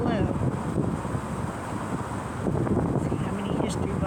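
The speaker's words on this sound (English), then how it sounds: "Wind's blowing, so it's not too hot." Wind gusting steadily at Charleston harbor near a bridge, a loud continuous rush buffeting the microphone throughout, with faint boat or traffic noise in the background.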